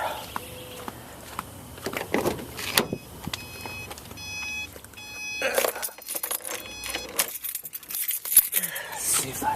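Car keys jangle and clink in intermittent bursts during a search in a garage before starting an old Toyota Tercel, mixed with shuffling and knocks, no one speaking.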